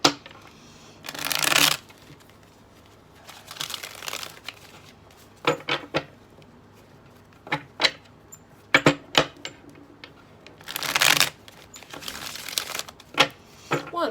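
Cards shuffled in several quick riffling bursts, crisp and close, separated by pauses and a few light taps and clicks.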